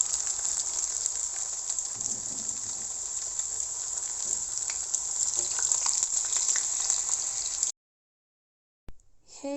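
Potatoes shallow frying in a pan give a steady, close, loud sizzle and crackle for several seconds, then the sound cuts to silence before a few faint clicks at the end.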